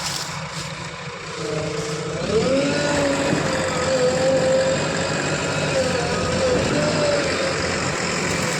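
A sugarcane tractor stuck in the field runs its engine in a steady loud drone that climbs in pitch and holds there as it labours, with some voices in the background.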